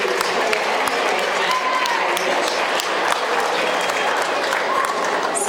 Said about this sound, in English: so a big round of applause as the other exhibits lead out